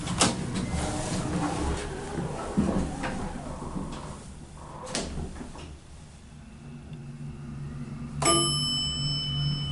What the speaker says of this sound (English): Chime sort of sounds like it's coming out of the phone speaker.